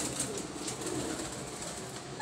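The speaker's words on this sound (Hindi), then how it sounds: "देखें माशाल्लाह खूब कबूतर है भाईजान" Soft, continuous low cooing of a pigeon with blue glass eyes, a Banka or Firozpuri breed kept for sale, sitting close in a noisy room with steady background hiss and no voices.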